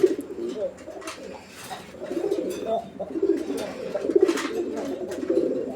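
Red fancy pigeon cooing in repeated soft, throaty bursts, close by, with faint background chatter between the calls.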